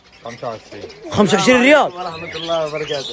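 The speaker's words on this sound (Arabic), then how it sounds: "هذا حمام حرمي" Haram pigeons coo in a market in Qatar, soft throaty calls close by that mostly sit under loud talking.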